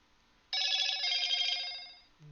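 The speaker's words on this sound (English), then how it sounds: "it's just my phone making noise." A streamer's phone gives a bright electronic notification ring, a single tonal burst of about a second and a half that fades out in a quiet room.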